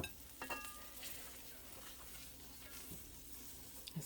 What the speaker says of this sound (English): So you just want to keep stirring until you get the color that you want.